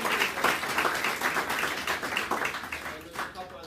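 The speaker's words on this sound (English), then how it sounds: "Give Andrew a round of applause." A small audience at a talk on metabolic autophagy gives a brief round of clapping, moderately loud and fading out at the end, with a voice speaking over it.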